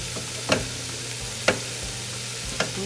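Unstuffed peppers mixture sizzling in a saute pan, a steady frying hiss broken by three distinct scrapes of a spoon stirring the pan, close and clear with no talking.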